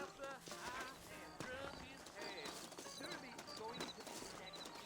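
Horse hooves clip-clop in the video game Red Dead Redemption on PS4, a steady trotting rhythm mixed with game ambience, music-like tones and occasional chirps.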